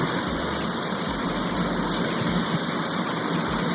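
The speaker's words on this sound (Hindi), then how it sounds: "पहाड़ों से कितना तेज पानी बहता हुआ रोड तक आ रहा है" Fast water pours off the mountains across a road in northern Pakistan's Hunza and Skardu region, a loud, continuous broadband rush heard up close, with occasional low thuds beneath it and no talking.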